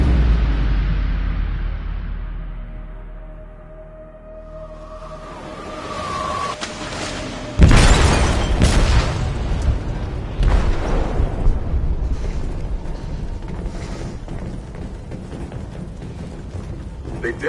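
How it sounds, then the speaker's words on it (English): A loud explosive detonation in a ship's hold in the game Detroit: Become Human hits as a sudden heavy boom, followed by a long rumbling roar and debris noise, after a quieter tense stretch with a rising tone. "They detonated an explosive in the hold."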